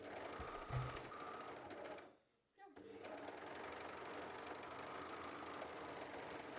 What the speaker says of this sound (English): When the lower edge is now prepared, it can be sewn together all around.